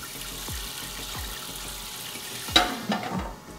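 Brewing water salts (gypsum, Epsom salt and calcium chloride) are tossed into water for an American IPA, giving a few soft drips and then a sharper splash and fizzing patter, close and quiet.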